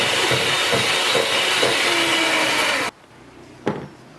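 An electric mixer churns oatmeal chocolate cookie dough with added oats and chocolate, a loud, close, steady whir that cuts off abruptly near the end, followed by a single soft knock in the quiet.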